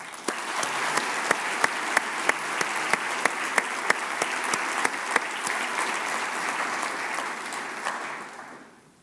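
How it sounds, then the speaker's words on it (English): A crowd at a medical school graduation ceremony claps steadily in sustained applause with a few sharp individual claps standing out, fading away at the end. "Let's give you another round of applause."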